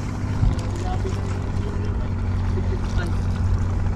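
A boat's motor drones steadily on open water off Palawan, a loud, constant low engine hum with faint water noise, while people talk nearby.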